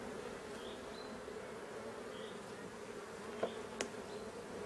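Honeybees buzzing around frames of a hive super, a steady close hum with a few individual bees flying past, and no talking.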